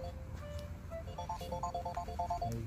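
A telephone ringtone plays a bright, repeating electronic melody in short stepped notes. It sounds fairly clear over a steady low background hum, with no speech over it.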